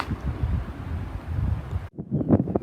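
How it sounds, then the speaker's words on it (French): Wind blows across a microphone outdoors beside a bay on an island, giving low rumbling buffeting gusts that drop out briefly near the end before returning in bursts. "Le vent s'est levé aujourd'hui,"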